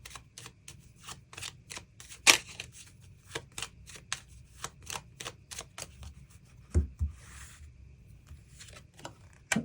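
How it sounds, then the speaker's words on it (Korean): Tarot cards shuffled and drawn by hand, a rapid run of crisp papery flicks and snaps with a few sharper slaps, close and fairly quiet, with no voices. "그럼 4번 분들 추가 카드로 일별로 월요일부터 일요일까지 어떤 하루하루를 보내게 될지 추가 카드 뽑아보도록 하겠습니다."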